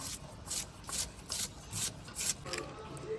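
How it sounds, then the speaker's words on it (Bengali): A knife chopping a washed onion in a kitchen, faint rhythmic strokes repeating at an even pace for a few seconds, with no talking. "পেঁয়াজটা ধুয়ে নিলাম এবার কুচিয়ে নিচ্ছি"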